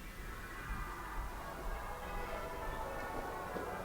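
Faint street ambience on London's South Bank: a continuous wash of distant traffic and city hum, with low rumble throughout and no single sound standing out.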